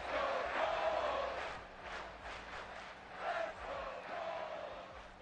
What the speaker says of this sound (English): Man, the crowd is loud.